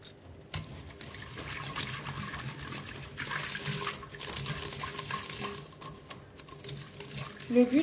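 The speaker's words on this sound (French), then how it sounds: "Donc on va mélanger ça au fouet tout simplement." Yeast is whisked into water in a bowl for homemade bread, giving quiet, irregular clinking and swishing from a nearby whisk against the bowl, with a soft faucet-like wash underneath.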